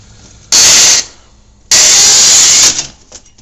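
Two loud bursts of hydraulic hiss and whine come as the hydrostatic drive control levers are worked, each lasting about half a second to a second, with quieter machinery between them.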